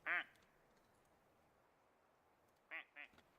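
A plastic toy duck quacks in the video game Alisa: The Awakening, one squeaky quack at the start, then a quiet pause and two quicker quacks near the end, over low background hiss.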